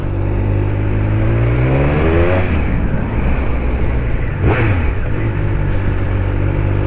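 A 2021 Triumph Speed Triple RS engine revving up hard nearby, pitch climbing then dropping and surging again in loud, rough bursts with no talk.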